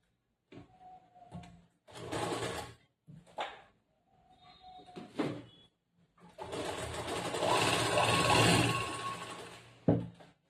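A sewing machine stitches a half-inch folded fabric hem in several short, stop-start bursts, followed by a longer sustained run near the end, close and clear with no voices.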